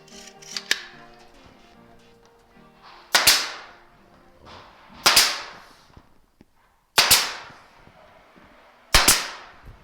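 Sharp nail gun shots fire one at a time, about every two seconds, fastening the hinge side of a double French door jamb; five loud, close cracks with light handling noises between them.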